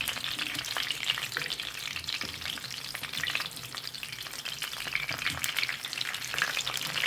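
Fish frying in hot oil, a steady dense sizzle with crackling pops running throughout, close and fairly loud, with no voices.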